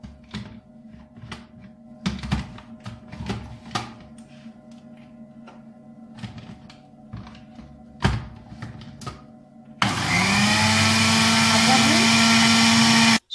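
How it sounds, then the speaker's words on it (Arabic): A kitchen blender whips instant coffee into foam for a café latte, starting abruptly as a loud, steady whirring roar after a stretch of thumps and talk from a woman. "وهضربهم برضو في الخلاط لغاية ما اعمل فوم"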